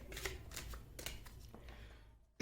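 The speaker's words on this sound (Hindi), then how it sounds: "गाइज मैं कार्ड्स आपके सामने ही शफल करूंगी" Tarot cards being shuffled by hand in a quiet room, giving a few soft riffling and slapping bursts at close range, with a sharper tap at the very end and no talking.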